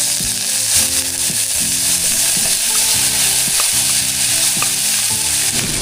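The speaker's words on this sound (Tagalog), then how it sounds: "Lagyan na natin ang ating corned beef." Corned beef fries in oil with onions, giving a loud, steady sizzle with scraping stir strokes and a faint low-pitched hum beneath it, and no talking.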